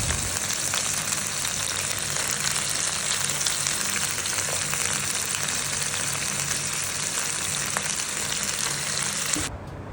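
Loud, continuous frying sizzle as rice is poured into a pot of cooked meat for biryani, steady hiss throughout and cutting off abruptly at the end.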